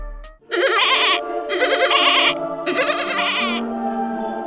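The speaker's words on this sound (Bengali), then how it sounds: "তাল্হা তাল্হা দেখ ওই দিয়ে একটা ছাগল" Cartoon goat bleating three times in long, wavering, nasal bleats with short pauses between them, loud and close with nothing else heard.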